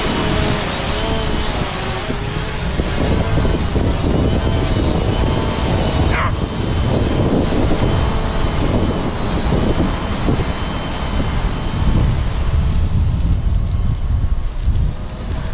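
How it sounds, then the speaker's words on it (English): A camera drone flies over an overnight fishing camp, its propellers giving a loud, steady whine and rush that persists throughout, mixed with wind buffeting. "bringing the drone back out"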